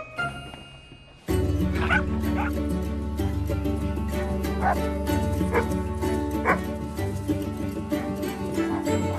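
A dog barks and yips repeatedly under ongoing dialogue and background music, the barks recurring at irregular intervals through an indoor scene; people talk throughout.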